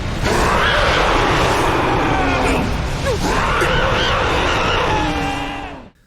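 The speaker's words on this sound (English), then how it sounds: "suddenly she screeches like a banshee" The female Titan from the Attack on Titan anime lets out a sustained, harsh, piercing screech, loud and unbroken for several seconds before cutting off abruptly.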